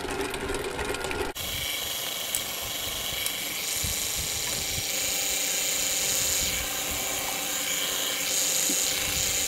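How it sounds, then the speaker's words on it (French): An electric mixer beats sugar syrup into fondant, whirring in a steady close mechanical drone with a rattling, slightly uneven texture that runs nearly continuously, with no one talking. "Je vais refaire partir le batteur de nouveau."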